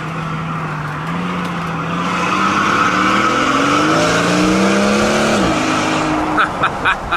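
Mercedes S65 AMG with a straight-piped 6.0L V12 revving up loud and close, a deep droning roar rising steadily in pitch over several seconds before dropping off, ending with a few quick blips.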